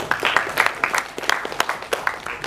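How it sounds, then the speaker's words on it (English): A small group applauds a speaker at a career counselling session, giving a loose, uneven burst of clapping with individual claps audible, close and moderately loud. "All right, applause for him."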